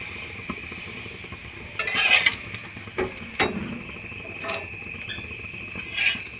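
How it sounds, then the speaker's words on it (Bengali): Lachha paratha fries in a pan with a low, steady sizzle. A few louder bursts of scraping and crackle break in as the flatbread is turned or pressed, and there are no voices. "একটু সময় নিয়ে পরোটাগুলো ভাজতে হবে।"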